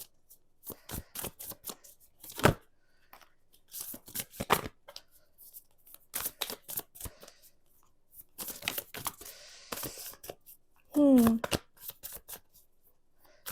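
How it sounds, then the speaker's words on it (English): Cards are shuffled in repeated quick riffling bursts separated by pauses, close and crisp, with a brief voice-like sound near the end. "we've got all of your cards shuffled and laid out"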